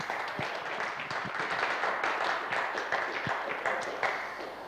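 An audience at a club competition in Dubai claps steadily for the top three in a dense wash of applause, moderately loud and sustained, with a faint voice underneath.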